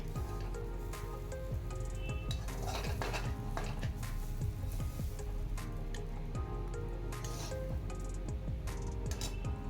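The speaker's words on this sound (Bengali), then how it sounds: "আমি একটা পাত্রের মধ্যে সার্ভ করার জন্য এটাকে তুলে নিচ্ছি" Mashed pointed gourd is spooned from a pot into a serving bowl: soft squishy scoops and repeated metal-on-dish scrapes and clinks, close and continuous, with no talking.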